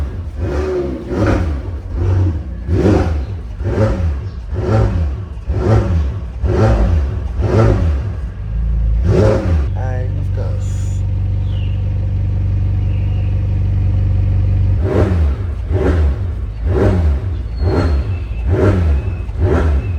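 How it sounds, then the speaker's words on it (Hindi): Engine of a Fiat Spider car in sports mode, revved repeatedly against a rev limiter capped near 3000 RPM: about nine quick rhythmic blips, a steady idle drone, then more sharp revs, close and loud. "so time to rev the car"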